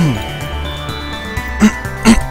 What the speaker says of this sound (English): sorry for the coughing, clearing of my throat